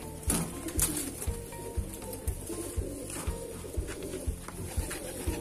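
Madrasi pigeons coo in a repeated low, throaty rhythm close by, with a few sharp wing flaps or clatters and no speech.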